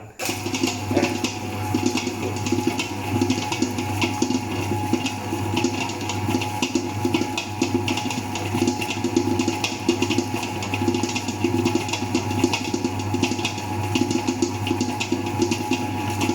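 A CHAICHANA food mixer runs at its medium second speed, shredding boiled pork into floss, giving off a steady, even mechanical whir with faint rattling, close and unbroken.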